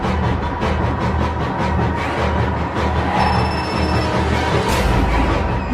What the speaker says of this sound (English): then my cell phone rang